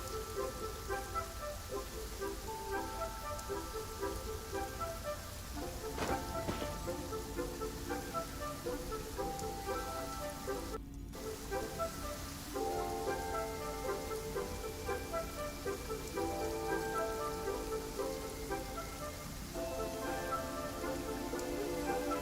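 Steady rain patters down throughout, a continuous soft hiss with a gentle melodic tune playing over it.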